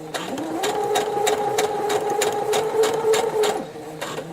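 A sewing machine stitches a basted zipper into a cosplay garment at a slow, even pace, a steady mechanical whir with regular needle clicks running for a few seconds, close and clear.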